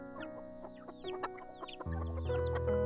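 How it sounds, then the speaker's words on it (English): Chickens on their way to a market cluck and squawk in quick, overlapping bursts close by, with a steady low hum or engine drone running beneath them. "We have to get these chickens to the market before noon."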